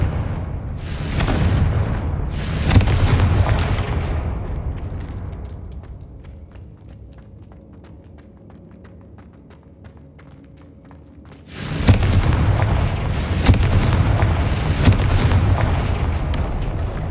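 Repeated Confringo fire-spell blasts in the Hogwarts Legacy video game, loud booming bursts that fade into a quieter lull before another dense volley of explosions erupts near the end.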